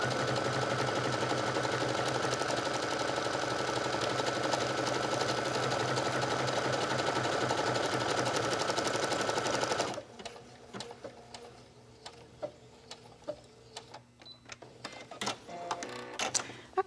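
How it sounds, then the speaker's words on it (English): A home sewing machine stitches a buttonhole on a circular fabric jewelry pouch, running as a steady, close, continuous whir for about ten seconds, then stopping and leaving faint clicks and handling noises. "So let me get this lined up and we'll get our buttonhole stitched."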